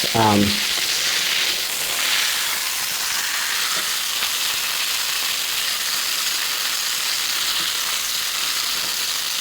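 A bacon-wrapped stuffed turkey browning in a pan gives a loud, steady frying sizzle that fills the whole stretch, with a brief voice at the very start.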